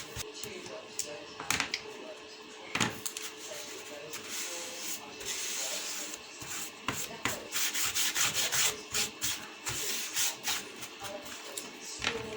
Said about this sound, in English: using a tissue, just wipe off any excess glue